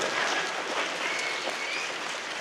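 An audience at a municipal education program applauds to welcome a speaker to the stage, a steady, moderately faint wash of clapping lasting a couple of seconds, heard from some distance.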